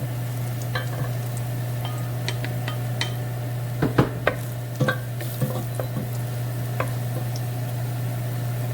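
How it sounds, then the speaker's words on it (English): Onions frying in a pan for beef yakhni pulao, a steady sizzle with a low hum running throughout, and a few sharp utensil clinks and scrapes in the middle. "we're going to fry them till they're golden brown"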